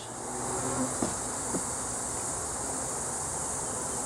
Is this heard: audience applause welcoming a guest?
no